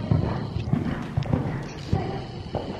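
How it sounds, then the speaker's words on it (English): A horse canters around a circle in a riding arena, its hooves striking the ground in a steady three-beat rhythm, close and fairly loud, while an instructor talks over it. "you're going to canter this circle"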